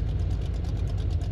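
A Corvette ZR1 in the Forza Motorsport racing game sits at idle, giving a steady, deep low rumble that holds even and unbroken throughout, with no voices over it.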